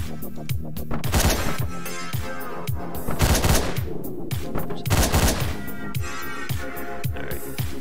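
Repeated sharp shotgun blasts in the top-down video game Hotline Miami, firing in quick succession against a steady, pulsing background.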